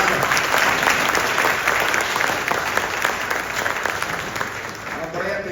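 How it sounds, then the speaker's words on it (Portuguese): An audience at a book launch gives a sustained, loud round of applause for a legendary figure being honored, dense clapping throughout with a faint voice underneath. "Uma salva de palmas para essa figura lendária."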